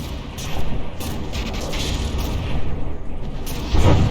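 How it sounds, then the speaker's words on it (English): Naval battle in From the Depths, with mortars and a high-explosive APS gun firing: a continuous rumbling wash of distant booms and blasts, dense and loud throughout, with a heavier thump near the end. "That high explosive APS gun is plinking away."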